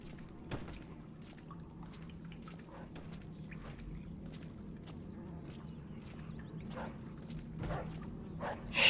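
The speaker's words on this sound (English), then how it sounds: "that dog could be a problem" Dog in the Mafia II video game barking in a sewer setting, sharp distant barks scattered irregularly over dripping water and a low ambient hum.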